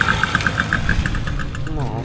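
A Robur truck engine runs at a motorcycle swap meet in Toruń, giving a steady low rumble. A string of short, evenly spaced high beeps sounds at the start, and voices are heard nearby.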